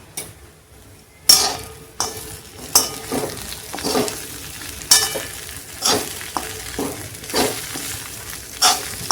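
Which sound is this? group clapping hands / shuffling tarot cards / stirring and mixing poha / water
stirring and mixing poha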